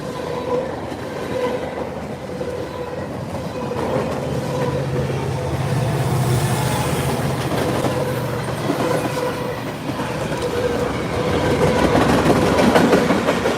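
Freight train rolling past with an EMD distributed power unit and loaded BC Rail center beam flatcars, a steady, fairly close rumble of wheels and cars with faint clickety-clack throughout.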